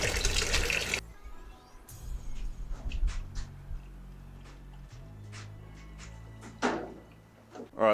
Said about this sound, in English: do a radiator coolant flush and put in some new coolant that we have here